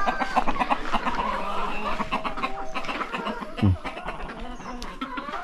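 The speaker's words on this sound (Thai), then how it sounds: "เป็ดไก่เขาก็ปล่อยตามนี้ด้วย" Free-roaming chickens cluck among ducks in a Hmong village in Laos, a steady farmyard chatter under a noisy background with a vehicle and one louder low thump midway.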